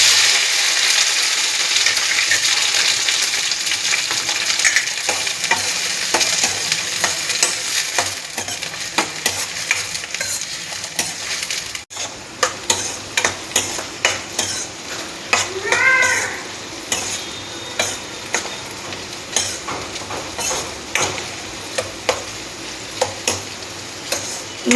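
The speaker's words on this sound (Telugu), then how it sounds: "దానికి ఆయిల్ పోస్తున్నాం. చూడండి, అలా కట్ చేసుకున్న బెండకాయ ముక్కలు వేసుకుందాం." Okra pieces frying in oil in a pan, a steady crackling sizzle with frequent stirring scrapes and clinks of a utensil, close and moderately loud.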